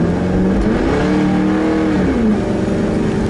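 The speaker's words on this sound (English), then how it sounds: "Sorry if my car's kind of loud because I actually have no padding in the back of my seats" Car engine noise fills a cabin stripped of back seats and seat padding while driving, a loud steady drone with the engine note rising and falling as it revs, continuous and close throughout.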